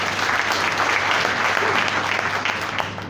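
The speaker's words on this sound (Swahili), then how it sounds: "Na tuwapigie makofi wanapowewe." A church congregation claps together in loud, sustained applause that fills the room and holds steady for a few seconds before slightly easing.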